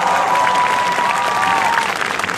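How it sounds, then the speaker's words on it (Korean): A large outdoor crowd at a candlelight rally in Gwanghwamun, Seoul, claps loudly in a dense, continuous roar of applause, with a thin whistle-like tone running through it. "지금 치는 이 박수는 저에게 치는 박수가 아니라"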